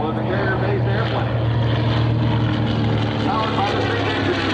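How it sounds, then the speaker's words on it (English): A TBM Avenger carrier-based torpedo plane with a Wright R-2600 radial engine roars steadily at takeoff power, a loud continuous droning hum at a World War II airshow, with speech mixed in under the noise. "You see the size of the airplane, you saw how fast it got off the runway."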